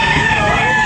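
A big gray rooster, about a year old, crows loudly and close at a chicken selling market in Tabunok, Talisay, Cebu, in one brief burst.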